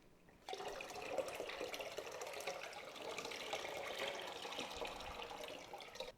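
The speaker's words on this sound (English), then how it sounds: "we're going to fill this up with water" Tap water pours steadily into a plastic container for sous vide cooking, a continuous close splashing rush that starts suddenly and keeps going at an even level.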